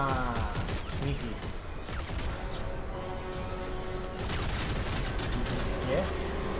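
Rapid gunfire from the sci-fi shooter Dead Space 3, a dense continuous burst of shots with crashing impacts layered over game music and effects, loud and sustained throughout.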